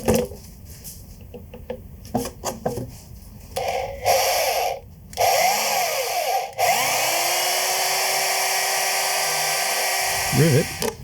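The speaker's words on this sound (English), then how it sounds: "drill them out." A power drill bores out holes in a custom bash plate for a Honda Transalp motorcycle, short bursts of whirring and grinding rising to a long steady whine, near and fairly loud.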